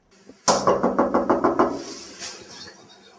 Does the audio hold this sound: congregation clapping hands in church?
no